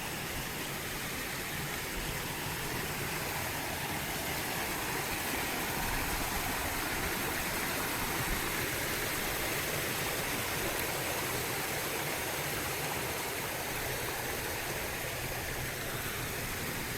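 A creek flows beside a makeshift bridge on a forest hike near Washougal, Washington, producing a steady, loud, unbroken rush of water with no voices.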